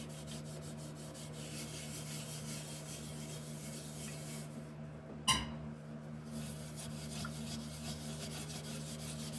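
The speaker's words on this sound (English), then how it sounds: "we'll just do a little scrubbing back here on the bottom." Steel wool pad scrubbing the bottom of a restored item, a steady close rasping rub that continues throughout with one sharp knock midway and no talk.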